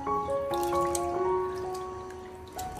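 Raw prawns are rinsed in a bowl of water, with close drips, light trickling and small splashes in a kitchen, and faint ringing tones underneath.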